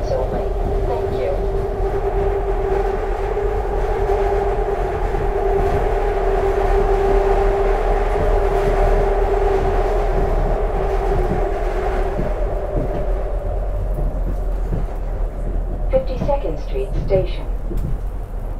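A SEPTA Market-Frankford Line subway train rumbles steadily along the tracks with a sustained hum and rattle, and an indistinct voice is heard faintly near the end.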